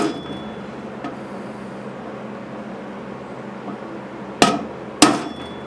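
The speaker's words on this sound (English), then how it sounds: "Got your punch, give it a whack." Two sharp metallic strikes ring out near the end as a hammer hits a center punch against a metal ammo can, the blows close and loud, preceded by quiet room noise.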